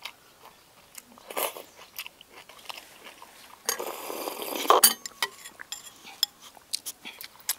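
Someone eating a cabbage, egg and tofu stew at close range, with soft chewing and slurping, utensil clinks against a bowl and a louder clattering burst midway. The sounds come in scattered bursts with no speech.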